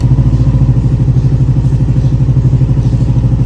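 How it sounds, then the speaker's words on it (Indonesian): A motorcycle engine, running on a newly fitted Yuasa YTZ7V battery, idles with a steady low throb and even rhythmic pulses, loud and close with no voices. "Kita starter."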